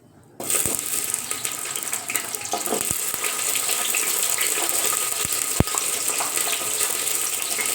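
Onions drop into hot oil for biryani and fry with a steady, close sizzle and hiss after a sudden start, with a few faint clinks along the way and no talking.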